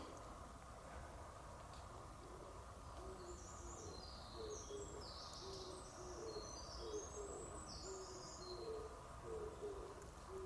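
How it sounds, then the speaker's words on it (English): An owl hoots repeatedly deep in Aokigahara forest, a soft low series of calls over faint wind and ambient hiss, with higher bird chirps in the distance. "It's like some crazy bird or something."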